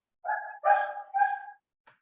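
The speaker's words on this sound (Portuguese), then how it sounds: "Tem um cachorrinho latindo aí." A small dog barks three times in quick succession, each yap bright and fairly close, followed by a faint brief yip, heard through an open microphone during an online talk.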